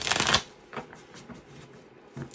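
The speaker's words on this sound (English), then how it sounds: "let me shuffle this a few times" A deck of tarot cards gets a brisk riffle shuffle up close, a sharp burst of fluttering card slaps followed by softer taps and shuffling handling as the cards are squared.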